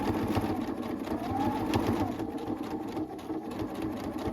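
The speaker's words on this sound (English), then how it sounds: "I'm going to back stitch, and I am going to stitch my shoulder seam" Sewing machine stitching the shoulder seam of a lined waistcoat, a continuous close mechanical whirr with a steady rapid needle rhythm and no talking.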